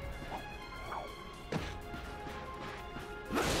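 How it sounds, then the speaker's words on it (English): Ratchet smashes crates in the Ratchet & Clank game with sharp crashing impacts, one firm break midway and another near the end, and lighter knocks and swishes between them. "Look at him smashing crates."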